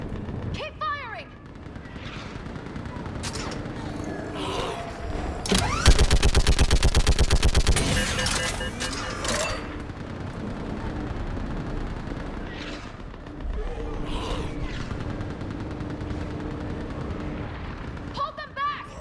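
Heavy gunfire in a Mass Effect battle, with a sustained burst of rapid automatic shots in the middle and scattered booms and shots around it, while voices shout over the fighting.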